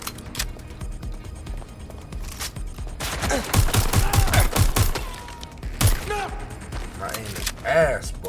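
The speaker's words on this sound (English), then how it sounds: "Target is firing! They're hit! They're shooting!" Bursts of gunfire in the shooter game Watch Dogs Legion, rapid volleys of shots with thumps and impacts clustered mid-clip, loud and close, mixed with game voices and talk.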